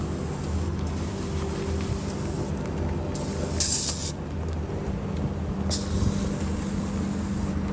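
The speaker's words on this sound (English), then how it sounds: "So hit this thing with degreaser." Degreaser sprayed onto a car engine pulled halfway out ahead of an LS swap, heard as steady broadband hissing bursts over a low idling rumble, with brief louder sprays around the middle and toward the end.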